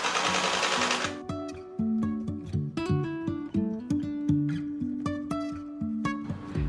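A sewing machine stitches a narrow fabric tube for a crop-top strap, starting after a short rustle and then running steadily in close, rapid stitching with slight changes of pace.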